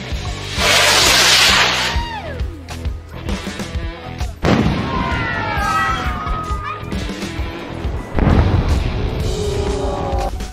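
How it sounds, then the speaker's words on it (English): Fireworks explode in the night sky as lightning strikes them, giving loud booming bursts with crackling tails. Three big blasts are spaced a few seconds apart, each followed by rumbling and fizzing. "Check out these one in a million moments when fireworks are struck by lightning."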